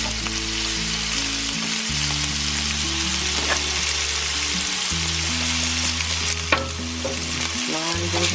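Sausages and onions fry in a pan with a steady, close sizzle, broken by occasional scraping stirs and faint clinks, with no talking.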